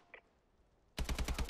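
Automatic gunfire from a Call of Duty: Advanced Warfare multiplayer match, a loud rapid burst of evenly spaced shots breaking in after near silence and a faint earlier blip, running to the end.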